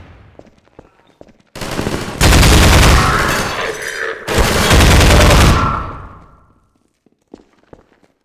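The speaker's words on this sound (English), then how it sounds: "Is that gunfire not too loud in the stream?" Loud bursts of rapid gunfire in the video game Half-Life 2, two sustained volleys close together, ending in a fading rumble, with faint clicks and thumps before and after.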